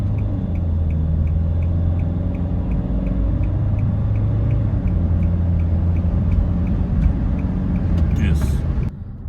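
Cabin noise from a Nissan Qashqai 2.0 dCi under full-throttle acceleration: a loud, continuous engine drone rising in pitch through the gears, with a faint regular ticking and talk over it.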